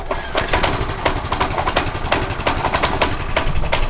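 A small gasoline engine on a camp cruiser runs steadily at close range, with a rapid, rough mechanical chatter and a busy, uneven rhythm throughout.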